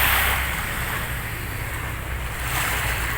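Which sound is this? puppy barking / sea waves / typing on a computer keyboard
sea waves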